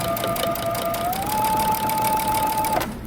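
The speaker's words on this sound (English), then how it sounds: "we're going to be stitching along our facing" A domestic sewing machine runs in one continuous, even burst while understitching a garment facing, humming steadily close by before stopping abruptly at the end.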